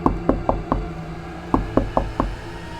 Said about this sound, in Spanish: Así tocaba la puerta de la habitación del niño.